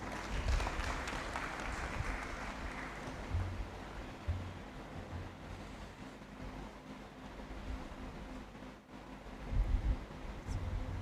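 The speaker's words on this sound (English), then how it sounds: "Please, let's welcome him with a round of applause." Applause fills a Great Hall at a university graduation congregation ceremony, a distant, washy roar of many hands under low rumbling room noise, steady and fairly faint for about ten seconds.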